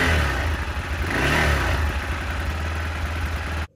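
AJP PR7 motorcycle engine running rough on diesel-contaminated fuel, a close, uneven idle with a brief rev and lumpy low pulsing throb, continuing for a few seconds before cutting off abruptly.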